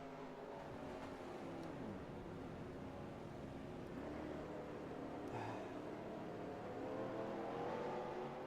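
Race car engine in the NR2003 racing game, a low steady drone with wavering pitch that dips and recovers as the engine stumbles, faint and continuous for the whole stretch.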